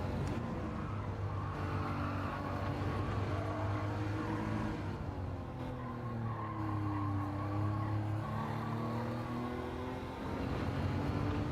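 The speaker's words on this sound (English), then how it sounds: "Look at them two Porsches, absolutely ragging it." Two Porsches driven hard at a time trial, engines droning at a distance while tires squeal in long wavering howls, the squeal rising and falling continuously with no speech.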